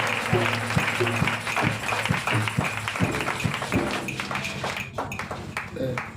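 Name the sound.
church congregation applauding and cheering for Jesus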